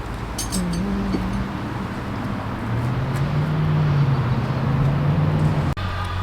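A freshly repaired truck engine runs at a campground as a steady low hum whose pitch drifts slightly upward, heard at moderate distance and cut off near the end.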